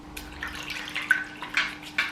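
Water in a sink sloshes and drips as a Foreo Luna Mini 3 silicone facial cleansing device soaks, with soft trickles and a few sharper splashes near the end over a faint hum.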